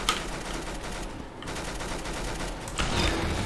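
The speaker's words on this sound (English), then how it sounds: "I'm so bad with the golden gun" Rapid automatic gunfire from a golden gun in a shooting video game, a dense continuous fusillade of loud close shots that briefly dips mid-burst and then swells again.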